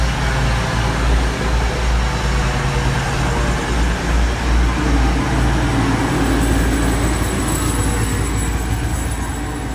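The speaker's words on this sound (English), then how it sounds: "We've got a class 222 Meridian coming into platform 2" A Class 222 Meridian diesel train pulls into platform 2 at Market Harborough station, its heavy engine rumble and rail noise loud and continuous throughout, with a rising squeal of wheels and brakes toward the end.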